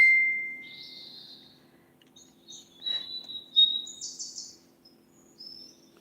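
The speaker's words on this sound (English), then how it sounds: "her bird Remy pipes up and you can hear Remy" A pet bird named Remy chirps and whistles in a quiet room, a series of thin, bright tweets and short calls at moderate distance.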